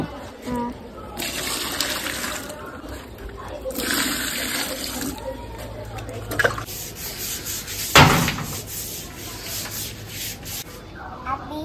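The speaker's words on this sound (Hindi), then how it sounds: "पानी फेंकर." Water splashes and scrubbing sounds during a deep clean of a house in Arunachal Pradesh, with repeated sloshing and rubbing bursts and one sharper splash near the end, under occasional background voices.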